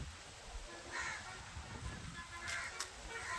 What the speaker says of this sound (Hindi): तो ऊपर से आई थिंक कौआ है, कौआ का घोंसला है बहुत सारा।